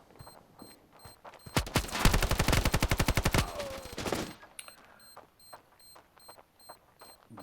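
Rapid machine gun fire from the mobile shooter Standoff 2, a loud, dense burst of evenly spaced shots lasting about two seconds, followed by scattered lighter game effects and faint beeps.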